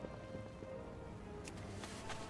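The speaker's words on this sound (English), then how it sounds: "Raining in Stormwind." Rain falling in Stormwind in World of Warcraft, a soft, faint, steady patter with a few slightly sharper drop sounds.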